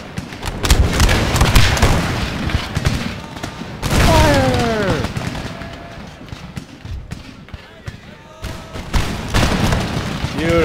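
A musket volley rolls out in a Total War game set in the Russian Empire, with ragged bursts of gunfire and heavy booms in repeated waves, layered with battle noise and shouted voices.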